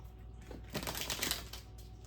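Tarot cards being shuffled by hand, a quiet flurry of soft riffling and flicking, faint and close, with no talking.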